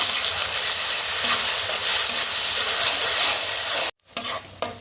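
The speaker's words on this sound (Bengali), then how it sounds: "এর মধ্যে দিয়ে পেঁয়াজটাকে ভেজে নেব" Chopped onions fry in hot oil with a bay leaf in a pan, a loud continuous sizzle with stirring scrapes, cut off briefly near the end before resuming.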